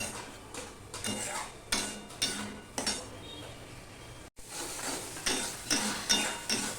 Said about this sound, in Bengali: মশলাটাকে আমি ভালো করে কষিয়ে নিয়ে নেবো যতক্ষণ না মশলার গায়ের থেকে তেল ছাড়ছে